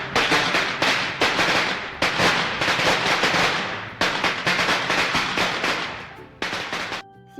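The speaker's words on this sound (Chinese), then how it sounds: "伴随着新年的鞭炮声" Strings of New Year firecrackers go off in rapid, dense crackling bursts, loud and close, with brief pauses between volleys and a tail of scattered pops fading at the end.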